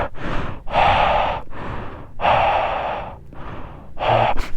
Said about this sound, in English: I'm breathing really loud right now.